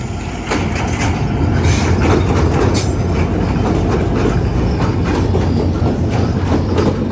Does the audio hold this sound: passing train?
yes